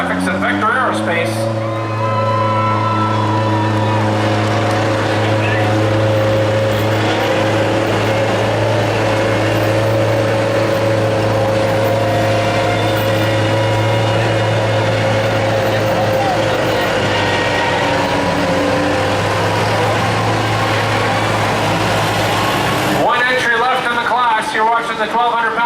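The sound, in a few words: 1,200-pound modified lawn tractors pulling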